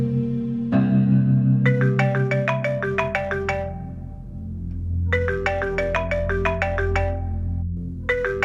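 A phone ringtone plays at night in a drama scene, a bright melodic electronic pattern repeating in two loud bursts over a low steady hum.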